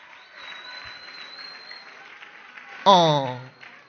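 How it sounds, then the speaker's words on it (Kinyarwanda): A church congregation bursts into a loud round of hand clapping that lasts under a second, after a quieter stretch of a voice speaking and a faint sustained tone. "ayo mashi tuyakome tuvugirize Imana impundu."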